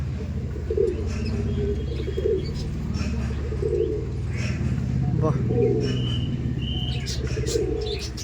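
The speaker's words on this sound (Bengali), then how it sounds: "খুব টেম্পারমেন্টে আছে পায়রা" Pigeons of a pair kept for sport flying coo in low, steady rolling tones through the whole stretch, close by and continuous, with a voice talking over them.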